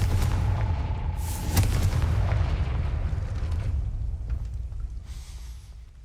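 A Confringo blasting spell goes off in Hogwarts Legacy: a loud booming explosion with a sharp crack, followed by a rumbling roar that slowly fades away.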